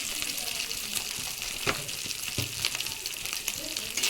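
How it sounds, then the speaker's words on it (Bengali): Cumin, ginger-garlic paste and turmeric frying in a pan for a Bengali mixed vegetable dish, giving a steady close sizzle with a few sharper crackles, heard alone without talk. "আপনারা কিন্তু মশলাটা ভালোভাবে ভেজে নেবেন, যেন পেঁয়াজ আর আদা রসুনের কাঁচা গন্ধটা চলে যায়।"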